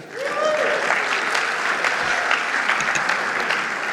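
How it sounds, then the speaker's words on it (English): A room full of conference attendees at an AI and automation event breaks into warm applause, steady and close, with a brief voice at the start. "Give yourselves a round of applause"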